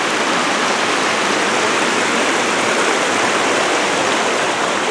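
Crystal Creek running low in summer, a steady rushing wash of water that stays close and even throughout, with no voices.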